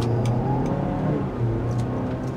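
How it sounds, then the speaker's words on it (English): A 2024 Kia Sorento SX Prestige X-Pro accelerates from a standstill, heard from inside the cabin as a steady, moderately loud engine drone that rises slightly in pitch. A couple of faint ticks sit over it and no one speaks. "You can hear some of the engine noise coming inside the cabin."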